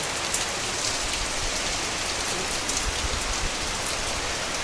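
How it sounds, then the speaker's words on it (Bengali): Heavy rain pours down during a storm, a dense, loud, unbroken roar of drops hammering surfaces nearby, steady throughout with no voices. "তারপরে কি বৃষ্টি দেখো ঝড় বৃষ্টি শুরু হয়ে গেছে"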